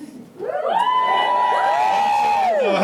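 Wedding guests at a December reception cheer and boo together, a sudden loud crowd roar with whoops and high shouts that swells up and holds steady for a few seconds.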